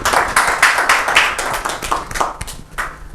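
An audience at a Rajasthan Parishad gathering breaks into hearty clapping, a dense run of quick, close hand claps with a loose rhythm that thins slightly toward the end.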